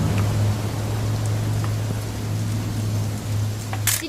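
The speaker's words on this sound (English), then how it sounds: "It's gonna rain the whole weekend, isn't it?" Steady rainfall in What Remains of Edith Finch, a continuous hiss of drops with a low ambient hum beneath, even and unbroken from start to finish, with no voices.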